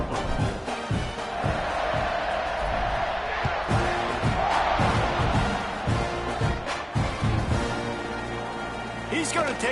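A football stadium crowd roars steadily through the kickoff, a loud, dense wash of cheering and shouting that continues without a break.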